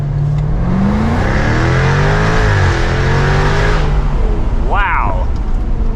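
A 2024 Jaguar F-Type R75 AWD V8 convertible launches from 0 to 60, its engine roaring and climbing through a gear shift before cutting off. A short voice exclamation follows near the end.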